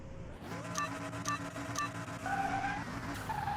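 A race car launching at a drag race start in Car Mechanic Simulator 2021, a revving engine with rising gear-shift whines and tire screech, fairly quiet and continuous.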